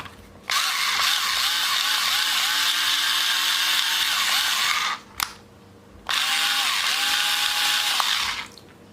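A cordless drill whirs steadily at high speed for several seconds, stops with a brief click, then spins up again for a second long run.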